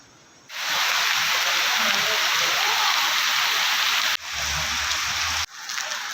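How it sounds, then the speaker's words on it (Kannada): Heavy rain pours outside during a trip in Coorg, a dense, loud, steady hiss that runs almost without break, cutting out briefly twice. "ತುಂಬ ಜೋರಾಗಿ ಮಳೆ ಬರ್ತಿದೆ."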